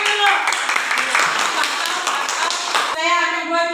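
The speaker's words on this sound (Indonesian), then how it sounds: "tepuk tangan dulu" A class of students claps hands together for a classmate during a lesson, a short burst of close, dense clapping with children's voices mixed in, then fading into a noisy room.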